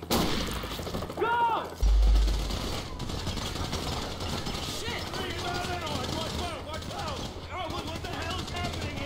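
Heavy crossfire in a Grand Theft Auto V cutscene, with dense bursts of rapid gunfire and booming shots that go on almost without pause. Engine noise and shouting voices are mixed in with the shooting.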